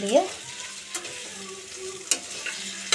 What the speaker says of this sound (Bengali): মুখি কচুগুলো এরকম লম্বা লম্বা করে কেটে আর আলুগুলো ডুমো ডুমো করে কেটে কড়াইতে জিরে তেজপাতা ফোড়ন